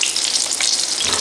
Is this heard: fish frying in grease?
yes